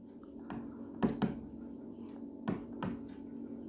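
Soft pen strokes scratching on paper in quick bursts, close and quiet, with brief pauses between strokes and faint room hiss.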